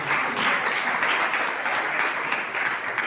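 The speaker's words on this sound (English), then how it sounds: "Please, another round of applause for them." Dense, steady applause from a school debate audience cheering student debaters, a loud continuous wash of many hands clapping close by with no speech over it.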